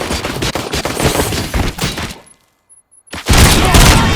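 Rapid bursts of gunfire from the Robocop: Rogue City video game, loud and dense for two seconds, then a brief near-silent gap before another heavy volley erupts.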